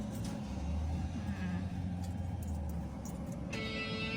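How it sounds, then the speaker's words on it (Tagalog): Highway traffic hums as a constant low rumble of passing cars and engines, close and steady, with a faint voice briefly audible. "Highway lang po yan."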